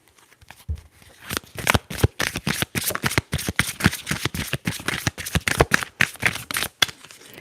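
Tarot cards are shuffled in a close, crisp run of rapid riffling flicks and taps, steady and rhythmic, with no talking.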